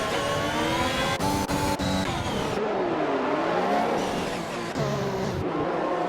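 Formula 1 cars in F1 2021 on the Canada circuit roar loud and close, engines revving and shifting as several cars accelerate together, with brief gear-change dips and a faint tire squeal under the sustained engine scream.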